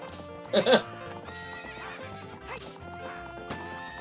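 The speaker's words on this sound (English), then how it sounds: "we get in front of Ingo and just let his horse push ours" A horse in the Ocarina of Time ranch race gives a loud shrill whinny early on, then hoofbeats clip-clop steadily at a gallop with game music running underneath.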